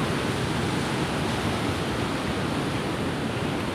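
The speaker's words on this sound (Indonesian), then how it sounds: "Ombaknya bagus" Steady broadband surf of ocean waves at Desa Pekon Kota Karang, a loud, continuous wash that holds for the whole stretch with no voices over it.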